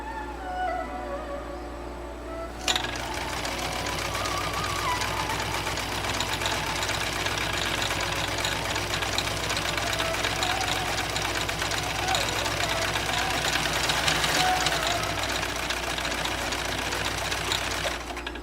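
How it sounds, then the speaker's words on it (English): A 1959 Kenmore 158.16410 sewing machine runs a decorative stitch at a steady, fast clip after a brief quiet start, its motor hum and rapid needle chatter continuous and close for over fifteen seconds. "sewing off that decorative stitch that we just set the pattern for"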